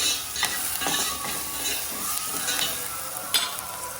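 Onions frying in a pan with a little salt, a continuous hiss of sizzling broken by stirring scrapes and light clinks of a spoon, close and moderately loud.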